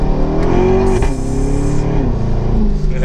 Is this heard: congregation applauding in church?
no